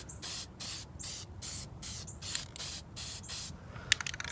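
An aerosol spray paint can hisses in about eight short, evenly spaced bursts onto an RC car wheel rim, close and fairly loud, followed by a few faint clicks and rattles.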